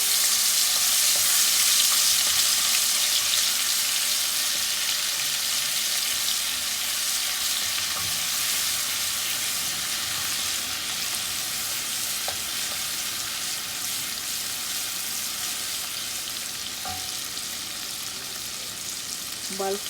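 Haitian spices fry in hot oil for sorghum with green peas, a continuous close sizzle that gradually softens over the span, with occasional faint stirring clicks and a brief trace of voice.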